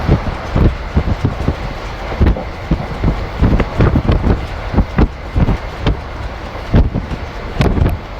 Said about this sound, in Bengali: এখন ওই দুটো পনেরো মতো বাজে ট্রেন ঘাগড়াঘাট রোড স্টেশন এন্টার করছে